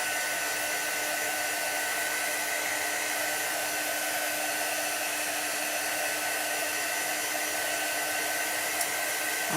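A hair dryer blows steadily to dry chalk paste on a holiday stars craft project, a constant close, loud rushing whoosh with no talk, holding an even level throughout.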